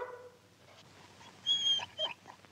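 A dog whimpers in faint, high, thin whines, a couple of brief squeaky cries near the end after a soft whine at the start, with no talking.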